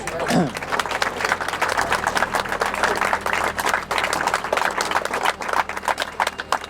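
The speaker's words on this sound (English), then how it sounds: "That saves me asking for a round of applause" Outdoor crowd applause at the close of a local historical walking tour in Coolock, a steady dense round of clapping from a nearby group, sustained throughout with a few voices mixed in.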